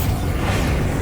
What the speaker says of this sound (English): Bombardo.